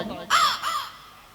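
A crow caws twice, harsh and fairly close, in quick succession and then trailing off, with a faint voice before it.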